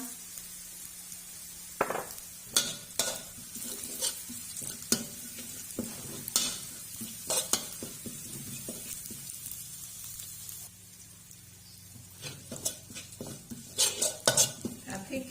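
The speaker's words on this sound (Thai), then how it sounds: "แล้วเราก็จะเอาพริกแกงไปผัดนะคะ นนี่เป็นพริกแกงเผ็ดเนาะ ผัดให้หอมนะคะ" Red curry paste stir-fried in a pan for a Thai fish curry, with repeated scraping and clinking of a utensil against the pan over a low sizzle, close and fairly quiet, with no talking.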